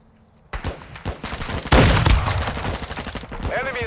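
Rapid automatic gunfire in Call of Duty: Modern Warfare II erupts after a quiet start, with loud, dense bursts of shots from a mounted weapon that continue steadily to the end.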